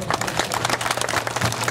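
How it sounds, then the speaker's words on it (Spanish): Applause from the assembled crowd at a school flag ceremony marking the handover of the escort and flag, a steady wash of many hands clapping throughout, fairly close and continuous. "Los aplausos."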